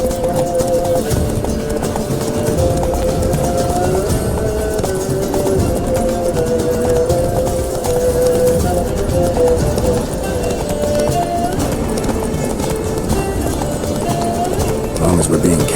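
Roach, a horse in The Witcher 3, gallops in a steady, close clip-clop of hooves that runs throughout, with people talking over the hoofbeats.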